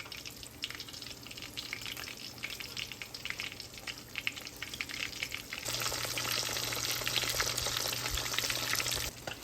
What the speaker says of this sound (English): go ahead and deep fry your fish fillets